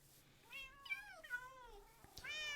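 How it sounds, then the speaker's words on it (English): Several cats in Minecraft meowing one after another, rising and falling cries in quick succession, clear and close against a quiet background. "So many cats. Conga line of cats"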